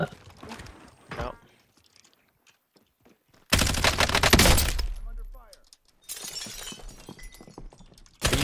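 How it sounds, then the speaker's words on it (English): Video game gunfire: bursts of rapid shots and loud booms crackling in two dense bursts, with people talking between them. "Are you shooting?"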